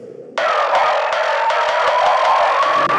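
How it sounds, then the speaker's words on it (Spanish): A psytrance drop played through a radio-style filter with echo and saturation, sounding boxed-in and narrow, with a steady pulsing beat and a rising tone that starts abruptly after a brief quieter lead-in and stays loud throughout. "como que si la canción petara, pero filtrada con un efecto de radio"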